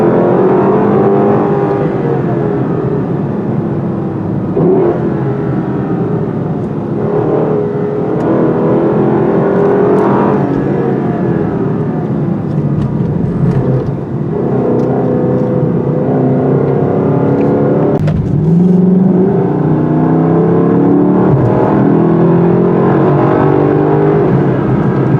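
A 2019 Lexus LC500 V8 engine revs loud and steady in a sport drive mode, its pitch rising and dropping through downshifts, heard from inside the car with no talk.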